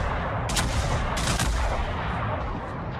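Warship main guns in World of Warships firing at a destroyer, a few deep, booming salvos in quick succession over a constant low engine and sea rumble, loud and close.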